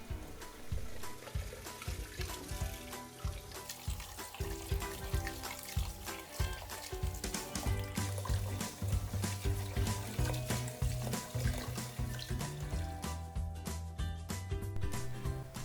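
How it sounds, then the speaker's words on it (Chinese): Preserved mustard greens are rinsed under a running tap in a kitchen sink: faint, continuous trickling and splashing water with irregular handling noises, no voices. "梅菜的话，最好是多清洗几次，把里面多余的盐分还有泥沙给清洗掉，也可以直接在水槽里面清洗。"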